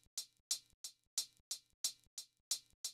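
Programmed hi-hat hits in a steady pattern alternating loud and softer strikes, crisp and dry, each closed hit decaying quickly, about three per second with a slight swing.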